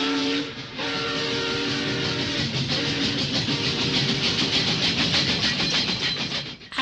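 A man imitates a passing railway train with his voice, a continuous loud rushing and rumbling noise with rhythmic chugging pulses that holds steady for several seconds before cutting off.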